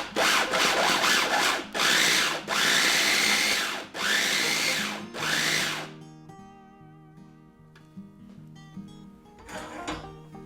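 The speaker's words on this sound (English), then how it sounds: "I'll have to blend it again a little bit more so the leaves are chopped up" A blender whirs through dandelion leaves for pesto in three loud, close pulses, each rising and then cutting off, before quiet background music and a faint clatter follow.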